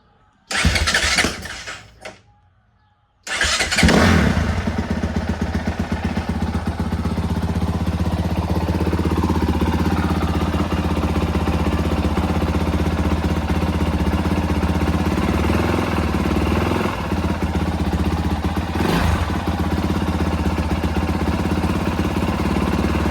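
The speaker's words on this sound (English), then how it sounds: "let's get a cold start on this bitch" A brand new 2026 Honda 450R quad cold-starting: a couple of short cranking bursts, then the engine catches and settles into a steady, loud, continuous idle with a slight rise in revs later.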